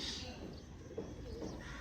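Pigeons coo softly in low, rounded murmurs, with faint outdoor background noise around them.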